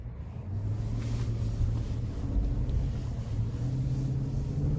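2025 Chevy Tahoe High Country with a 6.2 liter V8 driving on the road, heard as a steady low engine drone mixed with road and wind rumble from inside the cabin, with no speech.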